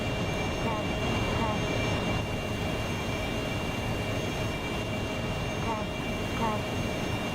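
An aircraft in a video game, the hog, drones steadily with a continuous engine roar, moderately loud, while a voice talks over it.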